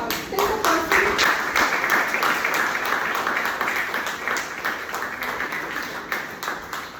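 A meeting audience claps together, a steady dense patter of many hands sustained throughout, loud and close, slowly tapering slightly toward the end.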